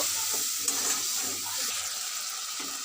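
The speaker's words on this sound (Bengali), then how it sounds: "মশলাটা একটু কষিয়ে নেব" Masala spices fry in a pan with a splash of water added, giving a steady bright sizzle and hiss with scraping stir sounds underneath while preparing a fish and drumstick kaliya.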